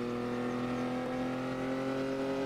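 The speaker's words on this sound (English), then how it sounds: "This Jeep whines real loud." Jeep engine whining loudly while driving in the survival game Unturned: a steady, high, tonal motor drone with stacked harmonics, constant and close with no pauses or talk.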